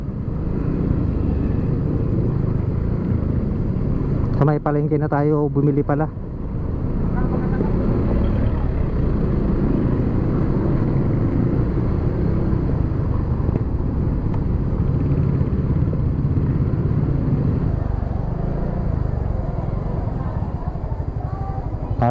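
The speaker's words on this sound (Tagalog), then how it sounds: "Traffic." Busy road traffic with a steady rumble of passing cars and motorcycles near a public market, running loud throughout, with a person talking over it and a brief tonal horn-like burst early on.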